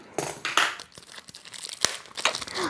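New books being unwrapped from their plastic packaging, close crinkling and tearing of film in several quick bursts with short rustling gaps, no speech.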